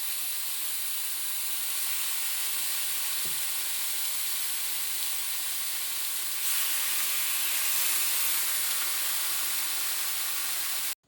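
Beef sears on a very hot pan or grill, a loud continuous hiss and sizzle that swells slightly partway through and runs uninterrupted.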